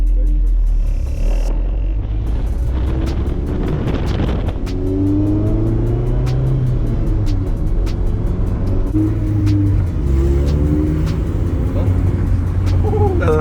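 A lowered car on new K-Tuned K1 coilovers with steel braided brake lines rolls along on a test drive, its engine and road rumble droning steadily from inside the cabin while people talk over it.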